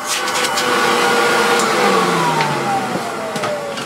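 A vintage vacuum cleaner fitted with its original cloth hose runs steadily at full suction, a loud continuous motor whine and airy rush with slight pitch drifts throughout.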